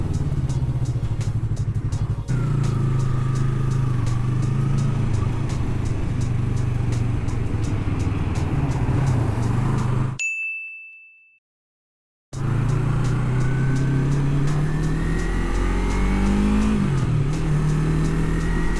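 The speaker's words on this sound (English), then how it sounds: "Oh, a little bit of traffic." Road traffic in Halifax heard from a Yamaha MT-03 motorcycle, a loud steady rumble of engines and wind with revving, cut by a brief dropout of near silence before the traffic noise returns.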